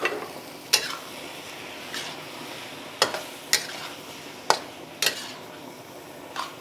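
Lettuce wrap sauce being stirred into chicken in a pan, with a light sizzle under irregular sharp scrapes and clinks of a utensil against the pan, spaced a second or so apart.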